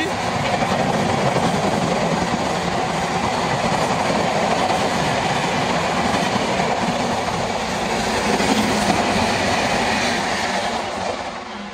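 A train rushes fast past a station in Mumbai, close by, a loud continuous rumble and clatter that holds steady and eases slightly at the very end.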